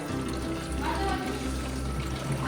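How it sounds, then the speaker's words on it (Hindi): Tap water running and pouring into bottles in a home kitchen, a steady continuous gush heard close by throughout. "ये सुबह कल से भर रहा है यार पानी"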